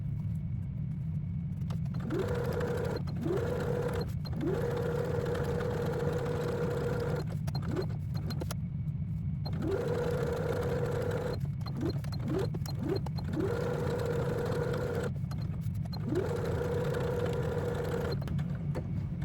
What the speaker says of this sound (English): I'm going to go ahead and finish sewing her up